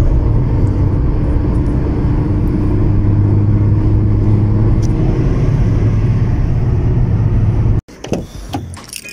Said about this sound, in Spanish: Bueno, ahí estamos en modo Sport. Vamos a acelerar. Ahí entró el cambio.